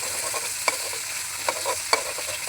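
Dried shutki fish frying in a pan, steady sizzle with three sharp scrapes of a spatula stirring, close and alone.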